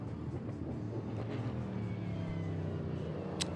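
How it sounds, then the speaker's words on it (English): A nimble Radical race car drives in an SVRA vintage race at Sebring, a steady engine drone heard at a distance that holds constant through the short clip with no voices. "Jim Booth at the wheel of that Radical."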